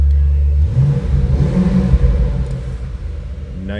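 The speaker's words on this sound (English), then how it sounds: "nice deep throaty exhaust note" A 2007 Ford Mustang Shelby GT revs its exhaust nearby with a deep, throaty rumble, the engine climbing and falling through a few blips before settling back toward idle.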